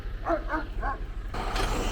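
A dog barks three times in quick succession close by inside a truck cab, over a steady low engine rumble, followed by a burst of louder broadband noise.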